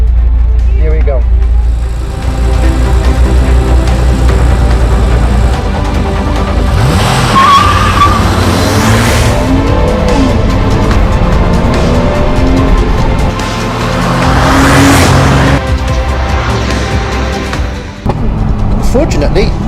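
A Porsche Boxster S 986 Tiptronic racing a Porsche 911 as the cars pass with loud engine roar and tire squeal in two swelling bursts. A person talks over much of the sound.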